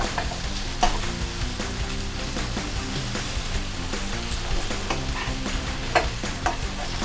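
Smoked sausage fries in a pan with a dense, steady sizzle and crackle close by, broken by occasional louder pops and utensil taps, no talking.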